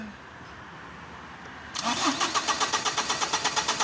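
A diesel engine cranks and catches after a fuel filter change, then settles into a steady, rhythmic idle with a pulsing beat, after a quiet start with room noise.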